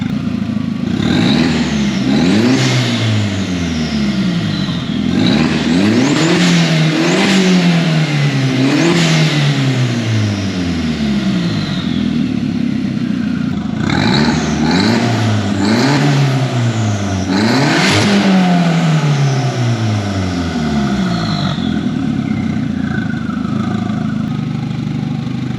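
A Mark 1 Caddy with a 20v turbo engine and straight-pipe exhaust revs hard again and again, each blip rising and falling over a rough idle, loud and close throughout.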